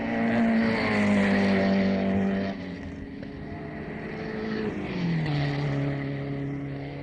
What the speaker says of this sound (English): Stan Jones went by then in his Maserati 250F, must have been doing about 120 to 130 as they turned out of the bend